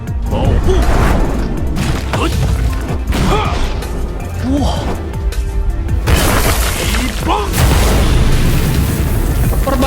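Explosive strikes ring out in an animated martial arts battle: a run of heavy booms, crashes and sharp whacks hit one after another at close range, with little speech.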